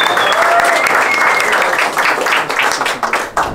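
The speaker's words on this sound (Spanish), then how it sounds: "¡Aplausos para el hombre!" Dense audience applause at a DJ academy, loud close clapping from a small crowd that keeps going for several seconds, with voices faintly underneath and the clapping loosening toward the end.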